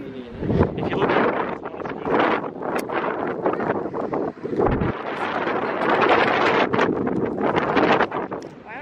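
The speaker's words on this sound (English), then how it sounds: "It's so windy." Strong gusting wind roars across the microphone at a waterfall lookout in Australia, loud and steady with buffeting bursts throughout.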